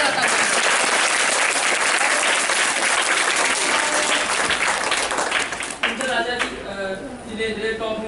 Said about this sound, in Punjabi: ਬੱਚਿਓ ਇੱਕ ਵਾਰੀ ਜ਼ੋਰਦਾਰ ਤਾੜੀਆਂ ਮਿਲਾ